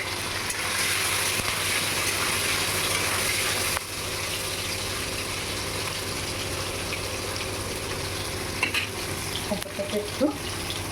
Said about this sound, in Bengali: কেটে রাখা পনিরগুলো ভেজে নেব। আমি পনিরগুলো ভেজে নেব।